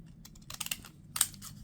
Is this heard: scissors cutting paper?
yes